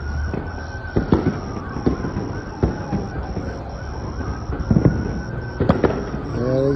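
Fireworks going off outdoors near a street party, sharp pops and cracks scattered irregularly at a distance, with wailing police sirens and faint background voices.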